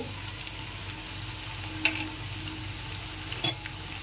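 Ground chili, Kashmiri chili, turmeric and coriander powders sizzling in oil in a pan for a Bengali tilapia fish curry, a soft continuous fry with occasional stirring scrapes and clinks.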